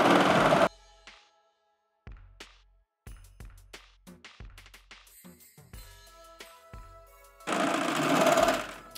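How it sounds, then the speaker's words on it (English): A serger sewing machine stitches up the sides of a Santa hat with the fabric's right sides together. Close, fast mechanical whirring bursts open and close the stretch, separated by quieter stops and short clicking runs. "we're gonna serge up the sides of this Santa hat"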